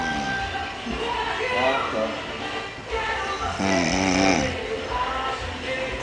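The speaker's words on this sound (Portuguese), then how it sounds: "Ouviu o ronco?" A person snores with several rasping breaths over a few seconds while other people talk nearby at a busy carnival gathering.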